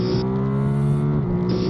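A 2023 Ducati Monster 937 motorcycle in urban riding mode pulls in second gear, its engine a steady, close harmonic drone that climbs slightly in pitch, loud and continuous with no talking.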